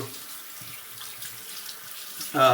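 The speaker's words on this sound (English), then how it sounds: "I'm going to go ahead and rinse this out real quick." Tap water runs softly into a bathroom sink while something is rinsed out during shaving, a faint steady trickle that swells into a louder splash at the very end.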